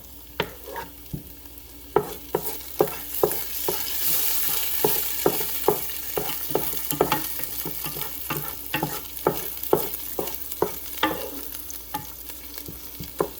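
Butter melting and sizzling in a hot pan for smothered pork chops, a rising crackle under a run of regular sharp spatula scrapes and taps, close and without talk.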